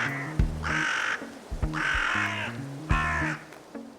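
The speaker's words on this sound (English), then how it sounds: "The crows of Troy." Crows in Troy, New York give three loud, harsh caws at a steady spacing of about a second and a half, each one clear and close over a low tonal background.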